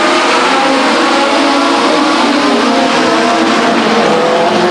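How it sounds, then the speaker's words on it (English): Legends race cars with 1200 cc motors accelerating hard in a pack at Stockton 99 Speedway, a loud, dense engine roar that holds steady throughout with no talk over it. "Doesn't take long for these 1200 cc motors to wind up quickly"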